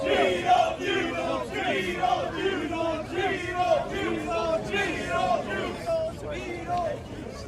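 A protest crowd shouts and chants in repeated rhythmic bursts, many voices overlapping in a loud, rolling roar with babble between the cries.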